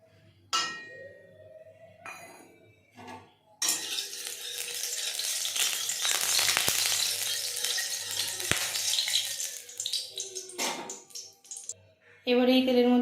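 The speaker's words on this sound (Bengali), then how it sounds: "এবার এই তেলের মধ্যে দিয়ে দিচ্ছি কিছুটা পরিমাণ কালো জিরে, আগে থেকে চিড়ে রাখা কাঁচা লঙ্কা।" Black cumin and chopped green chilies hit hot oil for begun basanti, with the oil partly reused from frying eggplant. A loud, steady sizzle runs through the middle, with brief clatter before and after it and a burst of sizzle again at the end.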